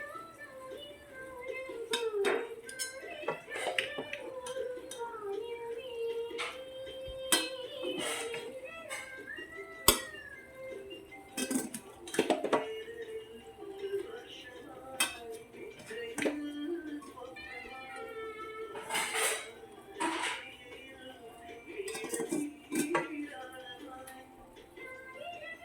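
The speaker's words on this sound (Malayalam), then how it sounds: "വേവിച്ച് വെച്ചിരിക്കുന്ന കൈമ റൈസ് നമ്മൾ ഇതിൻ്റെ അകത്തേക്ക് ചേർക്കാൻ പോവുകയാണ്" Cooked kaima rice is spooned in layers into a pot of prawn biryani, giving repeated light clinks and scrapes of a utensil against the pot under steady talk from a nearby voice.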